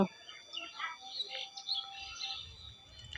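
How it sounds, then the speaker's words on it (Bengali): Scattered birds chirp and twitter at dusk at a moderate distance, bright calls overlapping in an open outdoor setting with a low rumble underneath. "চারিপাশে কিন্তু নানান রকমের পাখির কিচিরমিচির ডাক শুনতে পাচ্ছ"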